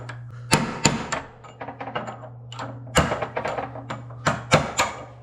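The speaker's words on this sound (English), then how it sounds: "So I'm going to use this little punch and hopefully we can bring it in." A small metal punch is tapped repeatedly to seat a clip in a school bus steering assembly, giving sharp metallic knocks in uneven bursts, some harder strikes among lighter taps, over a steady low hum.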